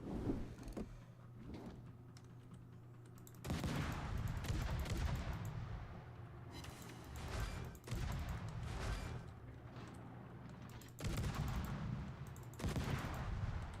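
Warship guns fire in the naval combat game World of Warships, with heavy booming salvos and sustained rumbling bursts that swell and fade across the clip against a low droning background.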